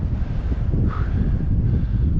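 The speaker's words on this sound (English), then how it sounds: "it's getting windy" Steady wind on the upper slopes of Mount Adams rumbling and buffeting close to the microphone, continuous and fairly loud throughout, with a faint whistling tone rising briefly in the middle.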